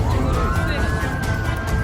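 Fire engines from a Suwon fire station arrive with sirens wailing, a steady rising-and-falling tone over a loud, dense rumble of engines and traffic throughout, during a chemical accident response drill.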